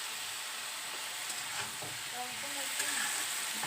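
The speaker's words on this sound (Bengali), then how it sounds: "একটু ভাজা ভাজা হয়ে যাক সবজিটা" Vegetables sizzling in a pan after salt and turmeric go in, a steady frying hiss with scraping stirs and brief fragments of voice near the end.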